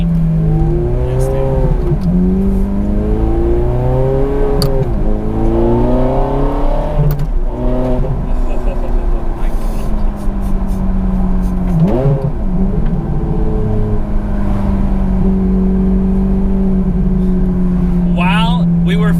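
A Ferrari F430 Scuderia with a six-speed manual conversion driving hard, its engine loud and close as it revs up through the gears in repeated rising sweeps with brief dips at shifts, then holds a steady drone, with a voice talking over it.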